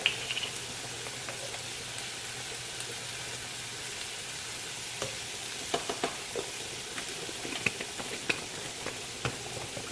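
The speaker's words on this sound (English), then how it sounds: "And we're just gonna stir this up." Spices get stirred into a mixture: a steady soft hiss with scattered light clicks and scrapes from the spoon against the bowl, fairly quiet throughout. No one speaks.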